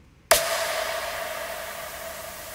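Dither noise is added to a downsampled audio render: silence gives way to a sudden burst of steady broadband hiss that slowly fades, carrying a faint tonal hum within it.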